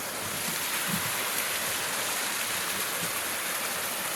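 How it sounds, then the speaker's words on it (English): A small waterfall beside the Bartram Trail near the Wallace Branch parking lot rushes in a steady, broad, close-up hiss, with a few low splashes and knocks near the start and no voices. "it's a little waterfall"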